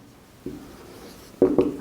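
Marker or chalk strokes on a board during a maths lesson: a faint stroke, a quiet pause, then two short, firmer scratches close by, with no talking.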